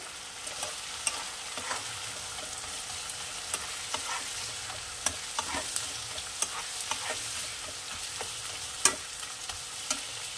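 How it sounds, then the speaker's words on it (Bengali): Spices and paste for a Bengali snakehead fish curry fry in a pan, giving a steady soft sizzle with scattered crisp pops and occasional stirring scrapes, with no talking. "এটা একটুখানি কয়েক সেকেন্ড, 10-15 সেকেন্ড একটুখানি এটা ভাজা ভাজা হবে।"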